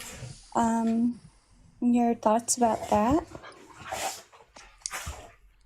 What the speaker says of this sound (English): If you hear weird like snuffling and stuff, it's my dog in the background.